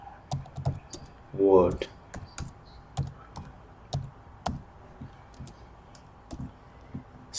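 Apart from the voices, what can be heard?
typing on a computer keyboard in Visual Studio Code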